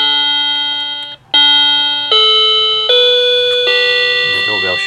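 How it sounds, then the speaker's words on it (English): A repaired electronic door chime with a replaced pushbutton plays a loud melody of ringing electronic tones stepping up in pitch, each note sustaining into the next after a brief pause near the start. "The doorbell should work reliably."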